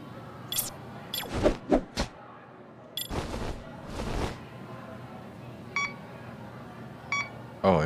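Phone message alerts in Lost Judgment come as several short, bright electronic beeps spread out in time, with other brief game sound effects and clicks in between.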